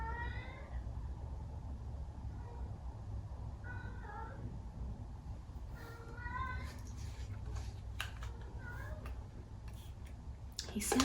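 A cat meows several times, plaintive and drawn out, spaced across a quiet indoor background of soft low noise, with a few faint clicks near the end.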